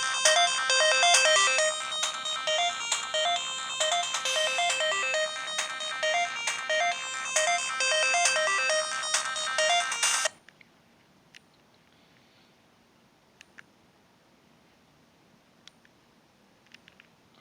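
A polyphonic ringtone melody plays from a Samsung A800 mobile phone, a bright looping electronic tune for about ten seconds that stops abruptly, followed by near silence with a few faint clicks.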